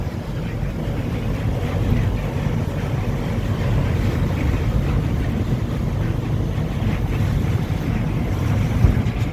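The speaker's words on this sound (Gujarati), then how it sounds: "જોઈ જો નદી જાય છે 2 કાંઠા, વરસાદનું પાણી" A rain-swollen river flowing full between both banks near Raichur, Karnataka, giving a loud, steady, broadband rush with wind buffeting the microphone and no break throughout.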